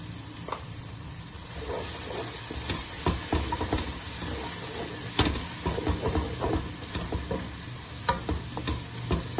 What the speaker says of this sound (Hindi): देखिए माशाल्लाह से मसाला हमारा अच्छे से भून चुका है।